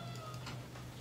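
A cat gives a single short meow, faint and brief, over a low steady hum.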